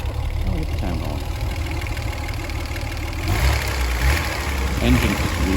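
A Fiat 130 Coupe's engine runs at a steady idle, a low, even hum that swells slightly louder partway through, with faint voices around it.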